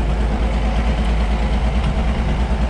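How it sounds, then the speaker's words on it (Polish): A steady, low engine rumble from an idling Ursus 1214 tractor continues at close range, with no change in pitch or pace. "Jest to ciągnik dla Bartka Szukany."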